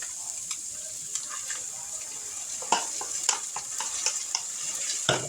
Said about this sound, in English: Give it another stir before I add it in.